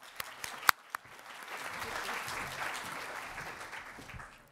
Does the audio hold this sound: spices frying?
no